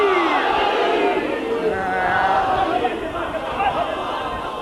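Large gathering at a 1991 majlis in Sharjah, UAE, responding loudly to a Nara-e-Haidari call, many voices chanting together in a sustained, roaring mass that stays strong throughout before easing slightly near the end.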